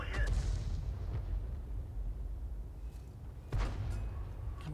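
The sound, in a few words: artillery gun firing in a tank video game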